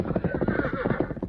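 A horse whinnies while its hooves clip-clop close by as a rider comes into a hillside camp, a short, busy burst in an old radio western drama.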